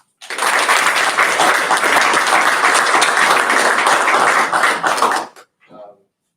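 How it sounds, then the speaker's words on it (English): Audience applause fills a board of education meeting room, a steady dense clapping that runs about five seconds and then stops abruptly, followed by a brief faint sound. "let's give him another round of applause."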